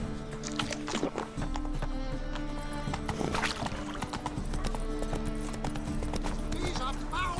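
Witcher 3 horse Roach's hooves clip-clopping steadily on the ground throughout, under in-game voices and a continuous background score.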